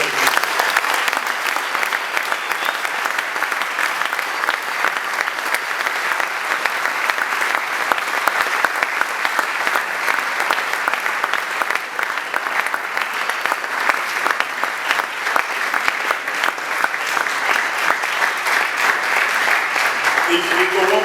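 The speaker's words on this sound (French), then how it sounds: "Commencez à applaudir, mais avec joie" An audience in a conference hall in Kinshasa claps loudly and continuously for about twenty seconds, a dense, sustained wash of applause with a voice briefly heard underneath.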